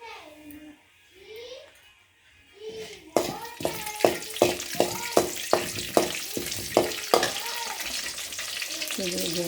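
Mustard seeds and chana dal crackle in hot oil for upma, a string of sharp, evenly spaced pops over a steady sizzle, close and loud, with a voice speaking briefly at first.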